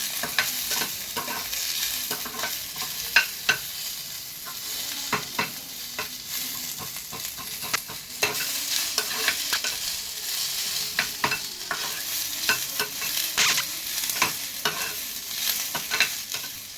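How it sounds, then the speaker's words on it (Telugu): Spices dry-roasting in a pan for fish curry, with a soft continuous crackle and frequent sharp scrapes and clicks of a spoon stirring at an irregular pace. "దోరగా వేయించుకొని ఇది మిక్సీ పట్టుకోవాలి."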